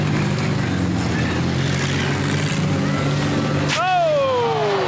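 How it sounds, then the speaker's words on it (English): A passenger-side airbag bursts in a car crashing during a full-contact racing event: one sharp, loud bang near the end cuts through steady engine roar and is followed by a falling squeal. "that was an airbag going off on the passenger side of that vehicle"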